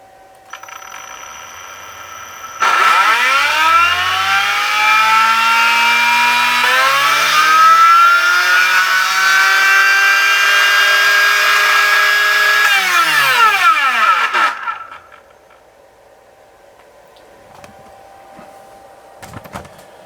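An RC electric motor driven by a Tekin ESC on a Minipro dyno whines up in pitch, holds a steady loud high-pitched rev for about twelve seconds, then winds down to quiet.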